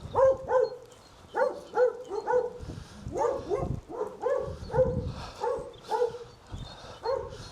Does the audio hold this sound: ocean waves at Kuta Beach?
no